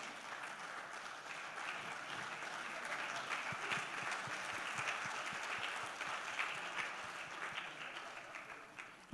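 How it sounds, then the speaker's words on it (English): A round of applause from an event audience for Sonali, many hands clapping in a sustained, even wash that stays fairly loud throughout. "Can we have a round of applause for Sonali?"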